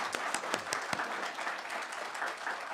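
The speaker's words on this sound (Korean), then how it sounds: "우리 열화 같은 박수로 한번." Church congregation at a Sunday worship service clapping together to welcome newly registered families, a sustained, moderately loud round of applause with sharp individual claps standing out at the start.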